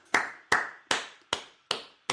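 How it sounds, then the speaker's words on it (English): A single pair of hands claps slowly and deliberately, five or six sharp, close claps spaced evenly apart with quiet gaps between them. "Neil, I'd like to give you a round of applause"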